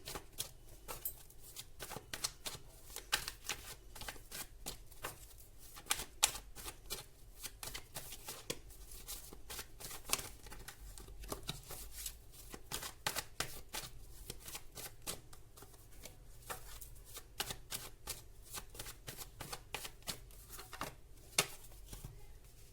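Tarot cards being shuffled by hand, a steady run of quick riffling flicks and soft slaps, close and quiet, continuing without pause and with no voice over it.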